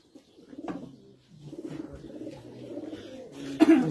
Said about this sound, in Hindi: ये जी हमारे फेवरेट कबूतर शाहीन